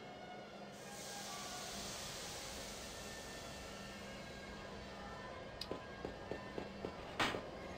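A tiny little train rolls along in the video game Grandia, a steady low rumble with a hiss and light rhythmic clicking near the end, no talking over it.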